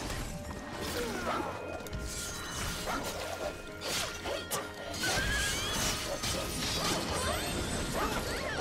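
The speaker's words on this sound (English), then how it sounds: "I gotta kill this fucking wolf" Wolf enemy fight in the video game Drakengard 3: a dense, loud battle mix of crashes, whooshing strikes and metallic clanks with brief dog-like growls and barks, continuous throughout.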